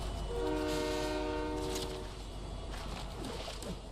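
A train rolls along its track in the Fortnite competitive finals, its horn sounding in a steady held chord early on over the continuous rumble of the cars, which carries on after the horn fades.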